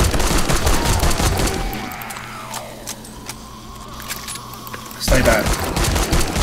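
Loud bursts of gunfire from a gun in 7 Days to Die, rattling in rapid succession, dropping away for a few quiet seconds, then resuming with a close, heavy volley; a voice speaks briefly.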